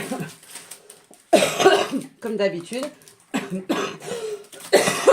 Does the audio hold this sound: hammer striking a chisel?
no